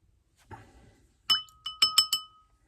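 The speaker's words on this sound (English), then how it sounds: "That's me beating on my water glass" A handful of bright, ringing clinks from something tapping a water glass, struck about five times in a quick, uneven burst after a soft rustle.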